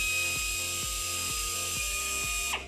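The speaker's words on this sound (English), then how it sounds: "grab your 3mm drill bit and drill straight through the neck of the bottle" A small drill with a 3mm bit whirs with a high, steady whine through a plastic bottle neck, its motor pulsing in regular beats, then cuts off near the end.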